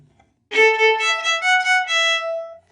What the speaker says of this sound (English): I'll play it for you on my violin.